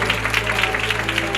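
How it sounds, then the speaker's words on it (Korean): Congregation clapping together in a church service, a steady dense patter of many hands held for the whole stretch over a faint low hum. "치료하신 아버지 하나님 앞에 감사와 영광의 박수를 올려드립니다."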